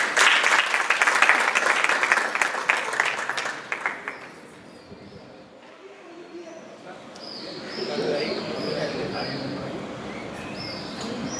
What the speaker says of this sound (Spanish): le vamos a dar un aplauso a Diana